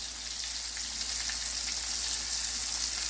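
Shrimp sizzle and crackle steadily in hot oil, a constant close-up hiss with small pops scattered throughout.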